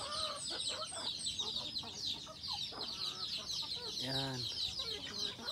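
Native chickens clucking nearby on a farm in the morning, soft scattered clucks with one clear drawn-out call near the end, while a person says a single short word.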